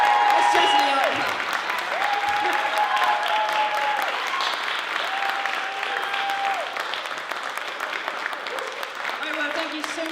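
Steady, dense clapping from a live show audience fills the whole stretch, loud and continuous, while a voice speaks over it.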